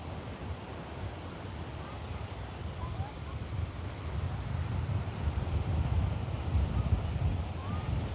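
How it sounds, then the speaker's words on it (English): Heavy wind roars across the microphone beside the water at a Melbourne beach, a continuous rough rumble that builds slightly over time, with faint surf beneath. "I know we got heavy winds, I can tell you that."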